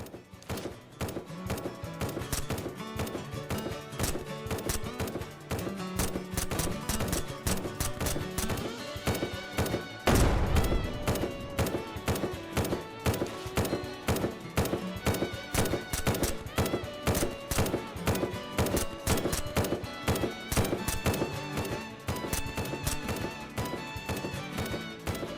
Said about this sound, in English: along with a few turrets shooting at nothing.